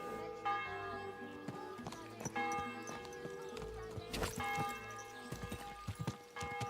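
Horse hooves clip-clopping in Kingdom Come: Deliverance II, a steady close hoof rhythm with a church bell ringing and other ambient game sounds around it.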